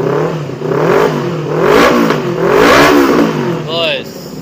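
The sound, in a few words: Honda CBR motorcycle engine revving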